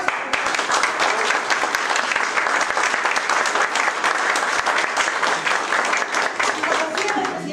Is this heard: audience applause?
yes